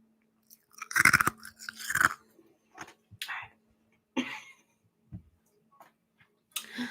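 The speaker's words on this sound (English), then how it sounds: "come back to just crunching on ice" Ice crunched between the teeth close to the mic as ASMR, giving a run of crisp, crackling bites in irregular bursts over several seconds with quieter gaps between them.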